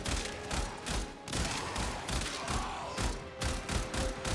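Three-round burst weapon firing in Warframe, the sci-fi shooter video game, with repeated rhythmic volleys of sharp gunfire and thuds continuing steadily throughout, loud and close over game background noise.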